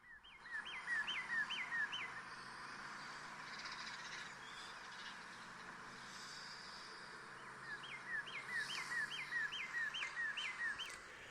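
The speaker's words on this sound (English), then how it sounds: "The birds are out" Birds singing outdoors on an Easter morning, with a burst of repeated chirping calls at the start and another toward the end over a soft, steady background, faint and distant.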